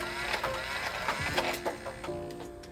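A Nerf Elite Rapidstrike blaster whirs as its flywheel motors rev, with quick mechanical clicks and dart shots rattling through the brief, fairly quiet burst.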